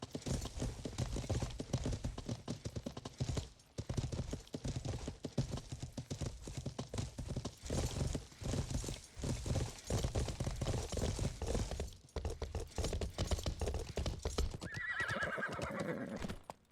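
Horse hooves clop steadily and close in the medieval video game Life is Feudal, running with few pauses, and a neigh rises near the end.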